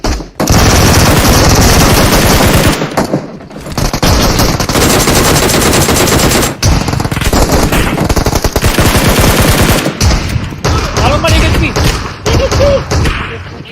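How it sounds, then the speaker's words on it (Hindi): Loud, dense bursts of gunfire from a PUBG Mobile match, with repeated heavy shotgun blasts and rapid shots over continuous game sound, brief gaps between volleys. "एक शॉटगन मारी मैंने"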